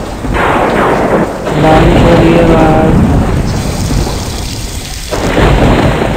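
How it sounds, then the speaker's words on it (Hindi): Heavy rain and rumbling thunder from a horror video game form a loud, dense, continuous roar, with deep rolling swells rising and fading over several seconds; no voices are heard. "बारिश हो रही है बाहर।"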